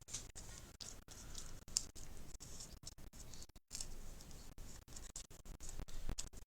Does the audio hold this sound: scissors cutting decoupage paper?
yes